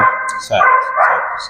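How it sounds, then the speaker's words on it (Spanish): A small dog barks in the background, a few sharp yips mixed in with a person talking close by. "se va a escuchar el perrito de fondo porque tiene mucha más voz que nosotros"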